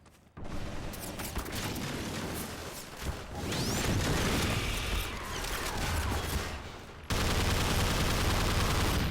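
Grenades explode on the ground in Half-Life 2, a dense, loud run of blasts and crackling gunfire-like bursts that fills the whole stretch, briefly dipping before surging again.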